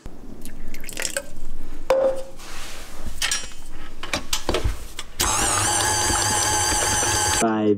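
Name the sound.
mixer dough hook kneading sourdough while water is added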